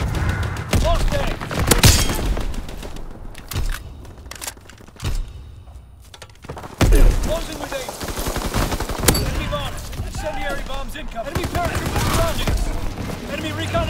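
Rapid gunfire from Call of Duty WW2 online match, dense bursts of automatic weapons and scattered single shots nearly throughout, loud and close, with a quieter lull in the middle and in-game voice callouts mixed in.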